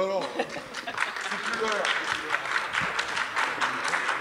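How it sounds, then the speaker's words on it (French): An audience at a debate day on neighbourhoods in Évreux breaks into a steady patter of clapping, close and sustained, with a voice heard briefly at the start. "Vous pouvez applaudir, oui."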